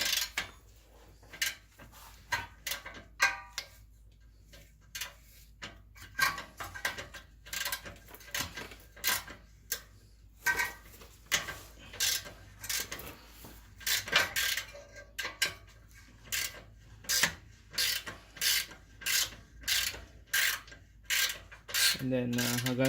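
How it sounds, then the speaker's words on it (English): Ratchet wrench loosening exhaust header nuts on a 1.8L GSR Acura Integra, a close series of sharp clicking ratchet strokes in irregular bursts, speeding into rapid regular clicks toward the end. "And then just start wrenching."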